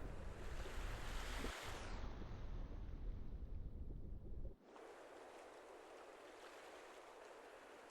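Water in a video game rushes and gurgles in a steady wash of broadband noise, then cuts to a thinner, quieter bubbling hiss that continues alone until the end.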